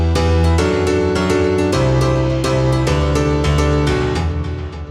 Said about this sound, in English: add a bit more atmosphere to the piano by adding this reverb and delay channel, which makes it a bit more atmospheric and sounds like this